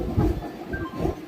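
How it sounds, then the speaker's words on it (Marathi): A local commuter train rides along the rails, heard from inside the carriage as a steady low rumble with soft rhythmic swells of wheel noise. "आता आम्ही लोकल मध्ये बसलो."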